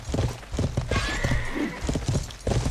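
Horse hooves clop in steady repeated beats in the medieval video game Life is Feudal, with a drawn-out neigh rising in the middle, loud and close against game noise.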